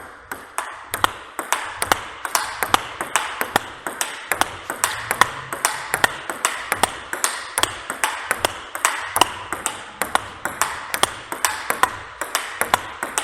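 Table tennis topspin strokes with a SANWEI 75 ALC blade, a steady rally of crisp, evenly spaced ball pings and table bounces, close and clear, with no talking.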